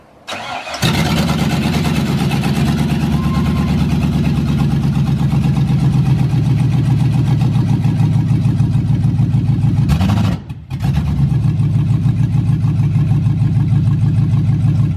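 An LS-swapped Ford F100 engine fires up and runs at a high, steady idle, loud and close, cutting out briefly near the end before catching again.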